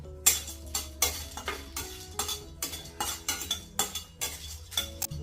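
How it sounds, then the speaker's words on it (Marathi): Cardamom pods lightly roasting in a pan for laddu: quick, rhythmic clinks and scrapes of a spoon against metal with a soft sizzle beneath, close and fairly quiet, with no voices. "वीस पंचवीस वेलची घेतलेली आहे ही हलकीशी परतून घेते"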